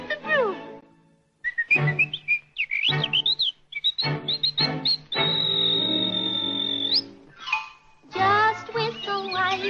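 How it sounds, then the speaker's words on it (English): A cheerful tune is whistled close up, with warbling runs and one long held note, bright and melodic with brief pauses. "Just whistle while you work,"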